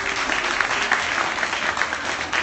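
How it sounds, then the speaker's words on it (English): Steady round of applause from a seated audience at a business training meeting, dense continuous clapping that holds evenly throughout without any talk over it. "Amy, if we could give them a round of applause"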